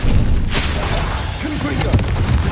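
The Incendio fire spell goes off in the Hogwarts Legacy video game with a loud whooshing burst and rumbling low booms, while a voice speaks faintly underneath.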